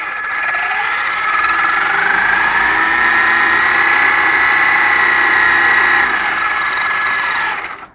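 A Traxxas Bandit RC drag car with a Ford Pinto body and brushed electric motor runs on its first drive, giving a loud, steady high-pitched whine that climbs slightly and holds for about seven seconds before cutting off.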